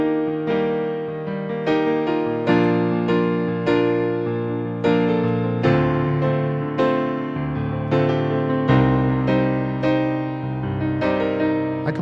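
A piano plays a slow repeating major-key 4-1-3-6 chord progression, each chord struck and left ringing, steady and warm, with no voices.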